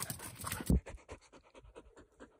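A dog pants in quick, steady rhythmic breaths close by, after a brief louder burst at the start.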